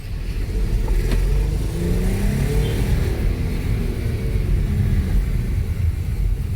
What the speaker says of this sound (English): And the car can still accelerate well.